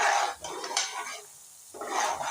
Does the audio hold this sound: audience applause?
no